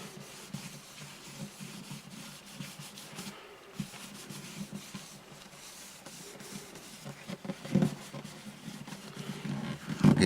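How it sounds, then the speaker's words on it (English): Ebony dust is rubbed onto the bridge of an Alvarez Artist AD65 acoustic guitar, making a steady close scratchy rubbing with repeated strokes that grows a little louder toward the end. "Rub a little of it on, rub a little of it off."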